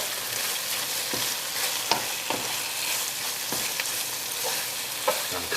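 A spoon stirs half a lemon's juice into a simmering Nepalese Gurkha curry, producing a continuous close sizzle broken by repeated scraping and clinking strokes against the pot, with no voices.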